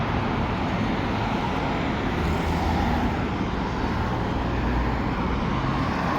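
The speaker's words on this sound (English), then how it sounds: "From far away, I can already see a bus approaching." A city bus approaching a stop in Kuwait, heard as a steady, loud wash of road traffic that holds evenly with no speech.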